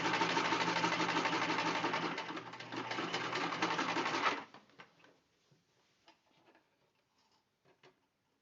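A sewing machine runs a straight finishing seam on a pocketed car trash bag for about four seconds, a steady close whirring rattle, then stops, leaving scattered soft clicks and handling taps.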